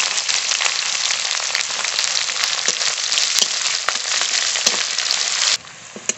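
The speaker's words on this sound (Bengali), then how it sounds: "পেঁয়াজটা খুব ভালো করে ভেজে নিয়েছি" Chopped onions frying in hot oil give a loud, dense, continuous sizzle with faint crackles, which drops away abruptly near the end.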